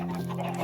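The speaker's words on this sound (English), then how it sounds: "That's a lot of chickens." Chickens cluck on a crowded Minecraft chicken farm, a short burst of game clucking over a steady background tone.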